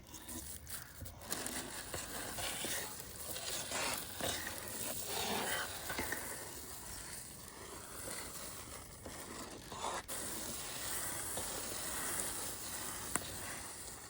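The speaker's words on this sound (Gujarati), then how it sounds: "કાજુ બદામ નાખી દઈ ગરમા ગરમમાં." Cashews and almonds are stirred into hot Gir cow ghee for adadiya, giving a soft, steady sizzle with scraping stirs and occasional sharper clicks, close by and without talk.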